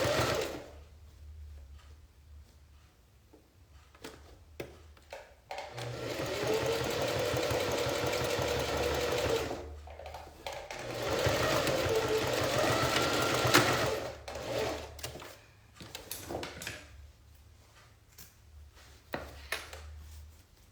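A sewing machine stitches bias binding onto a toiletry bag in bursts of steady mechanical whirring, several seconds each, broken by short pauses and softer clicks, close and alone.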